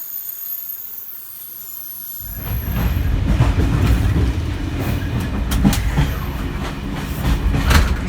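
Passenger train riding on rails in Bulgaria, a steady loud rumble of wheels with clickety-clack and faint squeal, starting after a quieter opening and continuing without talk.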